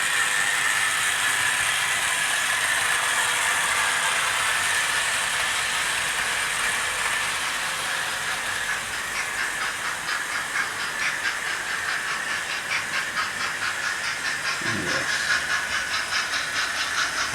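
A Fowler steam locomotive running with steady loud steam hiss and a rapid rhythmic chuffing beat that builds in the second half, with no talk.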